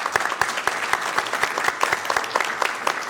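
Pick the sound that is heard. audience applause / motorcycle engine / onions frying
audience applause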